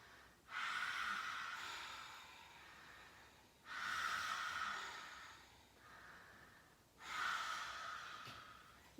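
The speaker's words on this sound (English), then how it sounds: "And you breathe." Slow, deep breaths during a vinyasa yoga flow, three long audible exhalations with a rushing, breathy texture, close and quiet, separated by short pauses.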